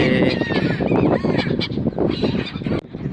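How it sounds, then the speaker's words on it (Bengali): Birds rising from the water at a river confluence, honking goose-like calls overlapping in a loud, close flurry that thins out toward the end. "দেখো ত্রিবেণী সঙ্গমে একদম আমার সামনে দিয়ে পাখিগুলো উঠছে"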